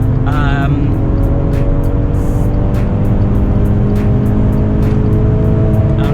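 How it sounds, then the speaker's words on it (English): A 2015 Maserati Ghibli with 324 horsepower at full throttle, heard from inside the cabin as a loud, steady engine drone that holds strong from start to finish, with no speech over it. "so I'm going full throttle"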